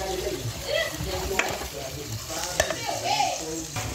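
Seasoning is stirred into taco meat frying in a pan, giving a steady crackling sizzle with scraping stir strokes and a couple of sharp clicks, while a voice speaks over it.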